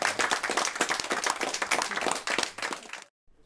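A meeting audience breaks into dense, sustained clapping for about three seconds, loud and close, before it cuts off abruptly into near silence.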